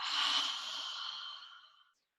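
A single long, breathy exhale through the mouth, close and soft, fading out gradually over about two seconds.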